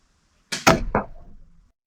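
A Cobra Adder crossbow looses a long arrow bolt at a 75 ft target at night, a sharp close snap and twang followed by a quick whoosh and a short thud of impact, alone in silence.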